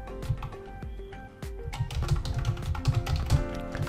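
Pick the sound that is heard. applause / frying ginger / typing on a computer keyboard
typing on a computer keyboard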